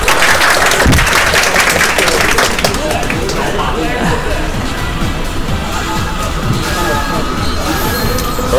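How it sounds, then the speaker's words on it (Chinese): Audience applause at a live competition event, loud, dense clapping from a crowd filling the whole stretch, with a burst at the start settling into steady sustained clapping under crowd noise. "来，给你掌声哦！"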